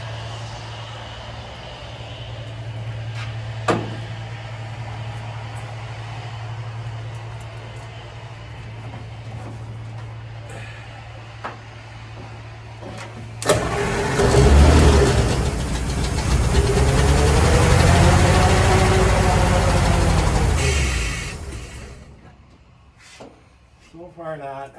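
A 1936 Ford flathead engine sputters to life after a low hum, then runs loud and rough for several seconds, uneven and throbbing, before dying back down, with people talking nearby.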